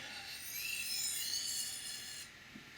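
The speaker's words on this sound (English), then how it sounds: "I use high angle passes to shear off the burr." A knife blade is drawn across a Spyderco ceramic sharpening stone in light, high-angle deburring passes, giving a faint, thin, steady scrape that fades at the end.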